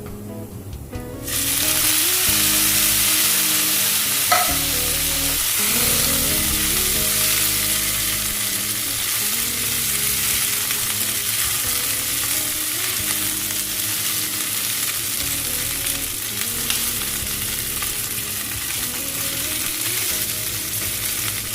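Chicken Manchurian ingredients stir-fry in a pan, with a steady close sizzle and frying hiss that carries on alone throughout, broken by occasional stirring and scraping strokes.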